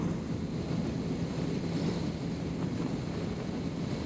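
Steady, loud wind rush from riding a motorcycle at about 70 mph in sixth gear, a dense continuous roar and buffeting with no breaks or voices.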